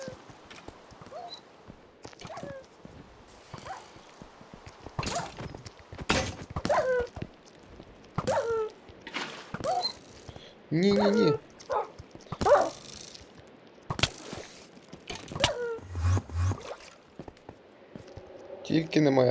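Dog barks and whimpers in the Minecraft video game, in scattered short bursts mixed with thuds and game effects while a person talks over much of the action.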